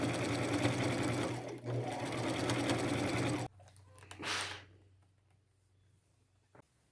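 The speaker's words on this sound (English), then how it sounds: "run a zigzag stitch 1/4 of an inch in and get these completely closed up into a sort of a circle" A sewing machine runs a zigzag stitch on a white shirt for about three and a half seconds, a steady loud whirring hum. It then stops, and a few soft handling sounds follow.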